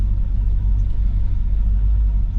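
A truck over 30 years old idles steadily with a possible bad clutch, a close, continuous low rumble of its engine running with no speech over it.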